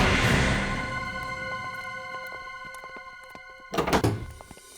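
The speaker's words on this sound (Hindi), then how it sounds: "नहीं नहीं, मैं तो बस एक कचरा बाहर रखने के लिए दरवाजा खोला था" A door is opened indoors: a soft rattle and a brief thunk near the end of a quiet stretch, with a steady ringing tone in the background and no voices.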